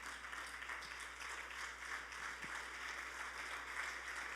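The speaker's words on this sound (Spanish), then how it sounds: "Dale sobre grande palmas a Él." A church congregation claps in a continuous, fairly faint and distant patter of applause over a low steady hum.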